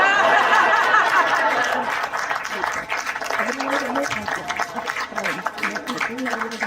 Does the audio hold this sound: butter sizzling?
no